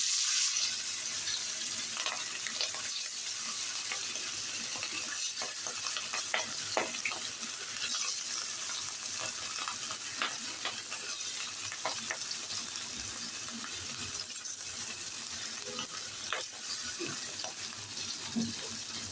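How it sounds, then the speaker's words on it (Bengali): Fresh hilsa fish fry in hot oil, giving a close, steady crackling sizzle with dense popping and spitting that continues without a break. "তেল গরম দিয়ে দিলাম এবারে একে মাছগুলো দিয়ে"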